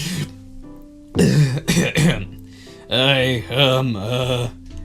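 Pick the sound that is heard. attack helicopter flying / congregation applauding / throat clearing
throat clearing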